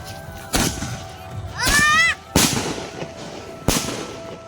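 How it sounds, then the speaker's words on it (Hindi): Firecrackers bursting at a Chhath Puja riverside ghat, three sharp loud bangs spaced a second or so apart, with a whistling rocket rising between them. "हम लोग अभी जाते हैं थोड़ा फटाका फोड़ने"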